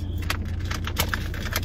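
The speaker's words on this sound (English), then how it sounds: "I can just do it with some keys." A bunch of keys jangles in a quick series of light metallic clinks while being used to cut open a wrapped rug, close and fairly steady over a low background hum.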